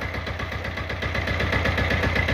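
A small tiller with a brand-new engine and electric starter runs at a steady idle, its close, rhythmic mid-pitched chugging throbbing continuously with mechanical vibration.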